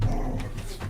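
A dog barks and growls close by in a short, rough burst during an indoor live show, with low rumbling growls under sharper barks.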